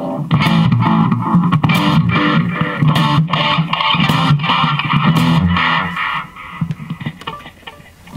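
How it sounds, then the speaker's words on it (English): An electric guitar is strummed and picked through a Fender Mustang I amp with an echo filter effect, giving loud, continuous distorted chords with rhythmic repeats and a fading tail at the end. "And then an echo filter."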